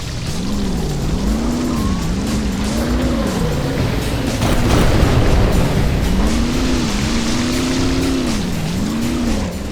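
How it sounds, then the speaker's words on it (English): A jet ski speeding across the ocean in the Killer Bean video game, a loud continuous engine whine rising and falling in pitch with rushing water spray throughout. "Back there and dock your jet ski up that ramp."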